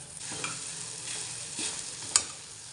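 Soft-cooked chana dal going into a hot pan for puran, with a steady sizzle and frying hiss, a few stirring scrapes and one sharp clink of a utensil against the pan, no talking.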